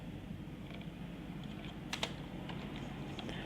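Computer keyboard keys tapped in a quiet room while Urdu text is typed in InPage 2009, soft irregular clicks in short bursts with a couple of sharper strikes, close and faint over low background hum.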